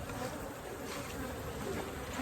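Honey bees buzz around a hive during a spring inspection, a dense, steady hum close by with individual insects droning past, no talking.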